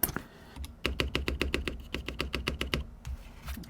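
Keystrokes on a KBD67 Lite gasket-mount keyboard with stock switches: a steady run of about twenty crisp, evenly spaced clacks, close and fairly loud, with a few more scattered taps after a short pause and no talking.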